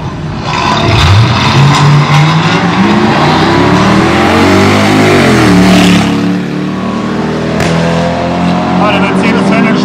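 Loud, close engines roar and rev as a Mercedes-AMG and a Mini Cooper launch hard and accelerate away together at a quarter-mile drag race in Aldenhoven, Germany, with a voice talking over the noise.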